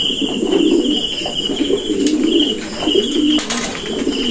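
Stock breeder pigeons kept for sale coo loudly and close by in repeated throaty rolling phrases, with a few brief chirps and rustles and no talking.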